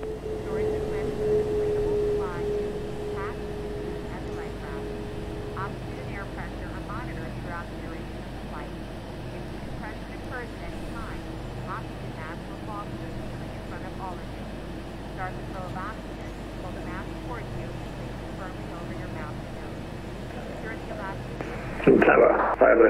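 Emirates Boeing 777-300 taking off in the PMDG flight simulator game, a steady jet engine roar holding under continuous cockpit and radio talk, with a louder burst near the end.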